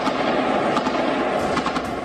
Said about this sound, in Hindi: काफी देर तक गोलियों और धमाके की आवाजें आती रही।